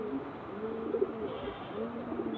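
A Chennai breed pigeon coos steadily up close in low, rolling murmurs that continue without pause over a faint background hiss.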